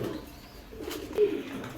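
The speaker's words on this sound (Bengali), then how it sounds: "এই যে দর্শক এ হচ্ছে মাদি কবুতরটা, অনেক চমৎকার এবং ছটপট একটা কবুতর" A female pigeon of a foreign racing breed coos low and soft close by, with a brief louder call near the end over a faint background.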